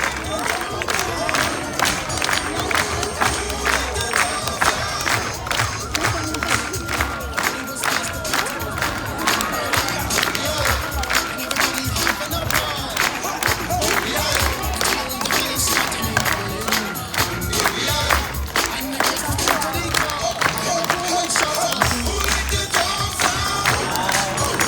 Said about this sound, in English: When you guys hear that beat, clap along.